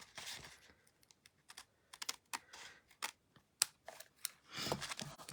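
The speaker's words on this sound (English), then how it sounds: "I am literally just going to run my snips along here." Craft snips cutting along the edge of paper for a Christmas card, a run of quick, crisp close snips and rustles in irregular bursts, quiet overall with no talking.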